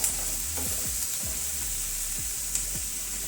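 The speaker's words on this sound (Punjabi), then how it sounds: "ਨਮਕ ਪਾ ਕੇ ਆਪਾਂ ਮਿਕਸ ਕਰ ਦਵਾਂਗੇ ਨਮਕ ਪਾ ਕੇ ਪਿਆਜ਼ ਜਲਦੀ ਗਲ ਜਾਂਦੇ" Onions fry with salt in a pan for a restaurant-style shahi paneer, giving a steady close sizzle while a spoon scrapes and stirs several times in an irregular rhythm.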